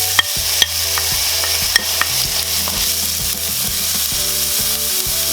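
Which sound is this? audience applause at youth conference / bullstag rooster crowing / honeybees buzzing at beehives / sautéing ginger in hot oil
sautéing ginger in hot oil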